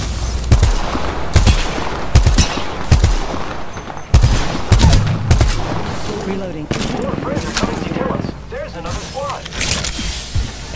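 Rapid bursts of gunfire from a squad-based first-person shooter video game, loud and repeated in clusters, mixed with character voice lines and in-game chatter over dense battle noise.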